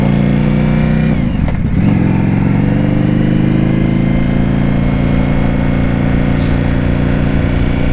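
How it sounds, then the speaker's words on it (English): A 2025 Indian Scout Bobber motorcycle fitted with a Vance and Hines slip-on exhaust revs up sharply once near the start, then settles into a loud, steady engine rumble close by, with no talking. "The Vance and Hines 2025 slip-on exhaust."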